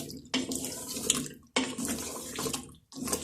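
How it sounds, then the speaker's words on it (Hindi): Water pours in three short bursts separated by brief pauses, splashing and gurgling into a cooking pot of turnips and meat close by. "अब मैं 1 कप पानी डालने लगी हूँ"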